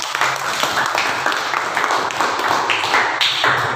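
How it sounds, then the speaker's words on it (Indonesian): Classmates clap together in a classroom, a steady dense burst of applause that lasts throughout with no talking. "Iya, berikan tepuk tangan kepada teman-teman."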